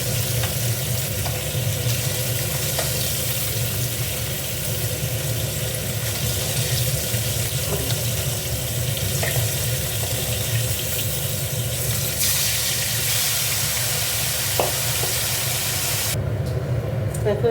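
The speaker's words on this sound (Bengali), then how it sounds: "মাছগুলো ভেজে নেব।" Koi fish fry in a pan of hot oil, giving a steady dense sizzle and crackle with light watery bubbling throughout, close and fairly loud, with no speech.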